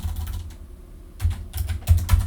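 A switch configuration command typed on a computer keyboard: bursts of quick, close key clicks separated by a short pause, with no voices.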